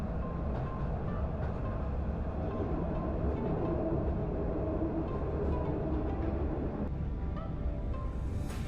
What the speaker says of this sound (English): Now the tram is crossing the road